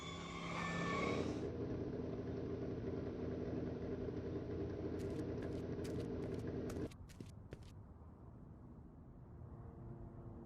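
A car engine runs steadily in the Back to the Future video game, a loud continuous drone that drops to a quieter idle partway through, with a few short high clicks or beeps over it.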